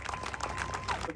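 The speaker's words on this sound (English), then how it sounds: "Let's make a round of applause for those heroes that got back home" Audience applause for returned prisoners of war at a political event on peace in Ukraine, a dense wash of clapping that stays steady and loud throughout, with faint voices mixed in.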